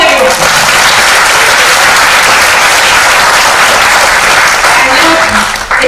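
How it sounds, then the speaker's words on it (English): A large audience at a conversation event with actor Nawazuddin Siddiqui breaks into loud, sustained applause that runs close and dense for several seconds before tapering at the end. "Round of applause, everyone."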